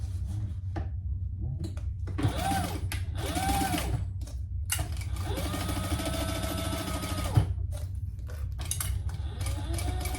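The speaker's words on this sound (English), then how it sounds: "We're going to stitch that on with kind of a basting stitch." Sewing machine running a basting stitch along a fabric sling pouch, with several bursts of steady mechanical whirring and rapid needle clatter separated by pauses and a few sharp clicks, close and fairly loud.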